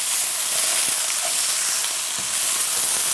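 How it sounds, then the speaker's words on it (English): Vegetables for veggie wraps fry in a pan with a steady, close sizzle, broken by soft scrapes as they are stirred, with no voices over the cooking. "You really want to stir most of the time that they're cooking to ensure that they cook evenly throughout."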